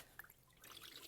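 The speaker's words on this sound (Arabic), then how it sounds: "وبصفي المي" Water trickles and drains off freshly rinsed, salted food in a home kitchen, a faint, close, irregular dribbling with no voices.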